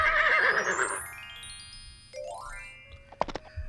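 A horse in the adventure game King's Quest 7 lets out a whinny, followed by chiming tones and bell-like jingles, all clean game audio with no talking.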